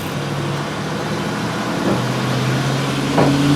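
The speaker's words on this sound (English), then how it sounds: "Getting very noisy. There's trucks passing." Heavy trucks roll past on a nearby road, a steady low engine rumble that swells slightly as vehicles go by, with no talking over it.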